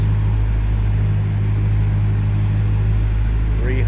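A 2020 Dodge Challenger R/T Scat Pack Widebody with a 392 cubic inch Hemi V8 idles with a deep, steady, close rumble, a constant throb with no revving.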